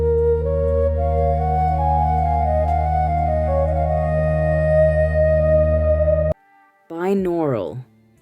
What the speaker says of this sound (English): Instead, he preferred to use binaural sounds.